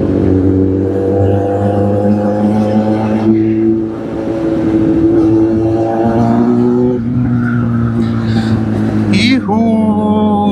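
A motorbike ridden on the road gives a steady, loud engine drone with strong harmonic tones that hold throughout, briefly dipping near the middle and shifting pitch near the end as the rider changes speed.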